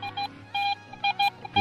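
A metal detector on a beach gives a series of short, clean electronic beeps, six or so in an uneven rhythm, close and fairly loud over quiet background.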